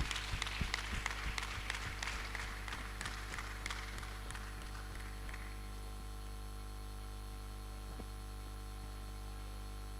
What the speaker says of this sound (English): So please, let's clap for her as she comes to deliver.